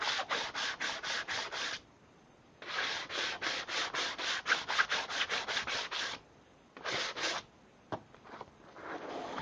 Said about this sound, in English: Nothing a little sandpaper can't fix.